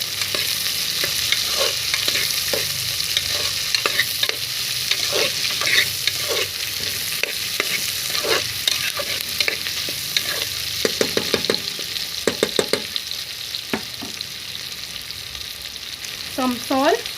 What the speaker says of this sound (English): Now I'm going to cook this onion until golden brown